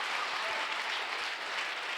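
Church congregation applauding during a sermon, a dense, steady burst of clapping from the gathered crowd that fills the whole moment.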